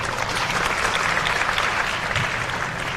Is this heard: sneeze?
no